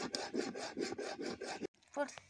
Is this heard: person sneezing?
no